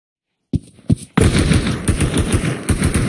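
Gunfire hitting a wall in the VR shooter Pavlov: a couple of separate shots after silence, then a dense, continuous burst of rapid automatic fire with sharp impacts, loud and close.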